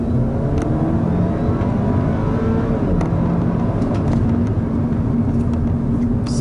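A 2021 Audi A4 45 TFSI quattro S Line sedan's engine drones loudly and continuously from inside the car as it accelerates, with no talking.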